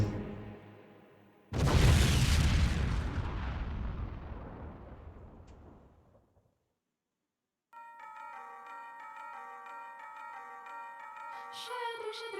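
Played footage of a missile strike: a sudden loud blast rumbles and slowly fades into silence, followed by a bright chiming melody with no talk.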